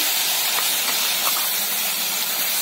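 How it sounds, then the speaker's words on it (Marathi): Masala paste hitting hot oil for a gravy tempering, giving a loud, steady, close sizzling hiss that runs unbroken throughout with no talking. "तर तेल गरम झालेलं आहे माझं आणि आपण जे मसाला ठुलता वाटून ते सगळा मसाला त्याच्यामध्ये मला ऍड करायचा आहे।"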